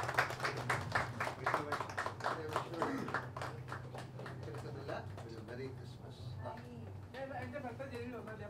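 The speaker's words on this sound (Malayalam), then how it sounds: "ഓഡിയൻസ് നല്ലൊരു കയ്യടി കൊടുക്കാം" At a cake cutting during the Neru movie success celebration, an audience claps in dense, steady rounds. The applause is fairly faint and sits under a speaking voice throughout.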